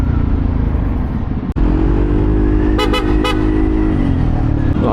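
A Yamaha Aerox 155 scooter's horn gives a couple of short, loud honks close by, cutting over the steady rumble of the engine and road noise.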